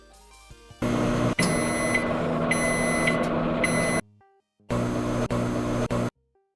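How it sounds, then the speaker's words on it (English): Microwave oven running in an apartment, a loud steady hum with sharp beeps, stopping for a short pause, then starting again before cutting off. "Microwave start. Microwave end."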